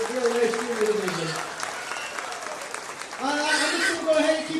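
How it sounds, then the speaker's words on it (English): An audience at a livestock show ring during a junior division, with steady applause under a man's amplified speech that stops partway and then resumes over the clapping. "let's give them a great big round of applause."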